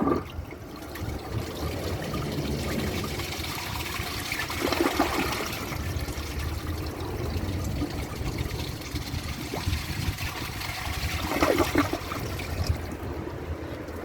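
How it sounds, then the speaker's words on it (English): A 2001 Capizzi toilet, a knockoff of a Kohler Wellworth Lite, flushes with a steady close rush of water that swirls and trickles throughout, with two brief louder surges along the way. "So let's give it a flush and do some tests."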